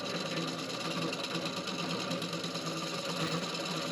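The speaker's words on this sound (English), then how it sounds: "Now I'm using my bowl gouge and I'm coming back out towards the edge," A bowl gouge cuts a recess into wood spinning on a lathe. The lathe gives off a steady, close whirring and scraping rattle that continues evenly without a break.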